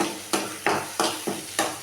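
A spatula stirs egg and vegetables for chicken fried rice in a hot pan, making regular scraping strokes about three per second over a continuous frying sizzle.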